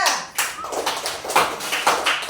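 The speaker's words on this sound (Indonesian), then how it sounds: "tepuk tangan untuk kelompok 2" A classroom group claps along for a student group in short bursts, a few quick rounds of handclaps close by with no voices over them.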